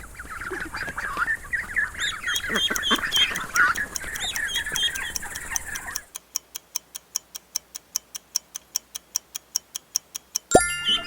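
Ducklings peep in a dense, busy chorus of high chirps for several seconds, then a steady, evenly spaced ticking takes over.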